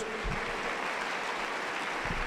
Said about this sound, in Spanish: Fuerte aplauso, contento para Jesús